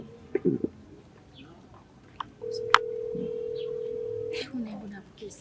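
A telephone call being placed: short electronic tones, then a steady two-second line tone that cuts off, with faint voices and room noise around it.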